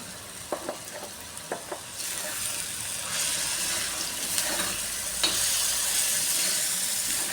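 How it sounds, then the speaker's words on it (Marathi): Tomato and chili being sautéed in a pan, starting with a few knocks of a utensil, then a steady hissing sizzle with occasional stirring scrapes and clinks, close and continuous without speech. "हे थोडं परतवून घेत आहे मी"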